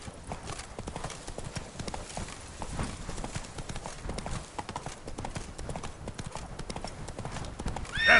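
Roach the horse gallops in The Witcher 3: Wild Hunt – Blood and Wine, dense rapid hoofbeats pounding continuously and up close, with a faint speech-like layer underneath.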